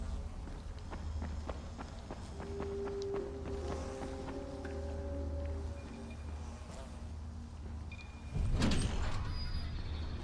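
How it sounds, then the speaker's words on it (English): In the Dying Light video game, an elevator door swings open like an ordinary hinged door with a door hub. A short, louder burst of movement near the end rises over a steady background hum and scattered clatter. "I've never seen an elevator that opens up with like a normal door."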